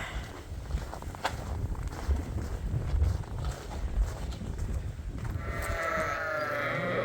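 Lambs bleating in a barn over shuffling hooves and rustling, with wind noise from windy, harsh weather outside, and a higher, clearer bleat near the end.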